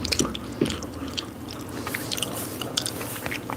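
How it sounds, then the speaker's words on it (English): Gum chewing ASMR with close-miked wet chewing, soft smacks and crunchy bites in an irregular rhythm, loud and intimate against a quiet background. "Do I always chew with open mouth?"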